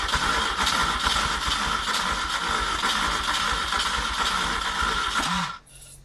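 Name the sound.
Peugeot 104 engine coughing while trying to start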